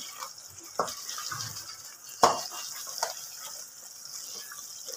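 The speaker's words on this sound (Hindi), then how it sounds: "और अब इसके अंदर ना मैं डालती हूँ पानी" Water is poured into a cooking masala gravy made with ghee, a faint, soft splashing trickle over a short stretch, quiet and close with occasional clinks.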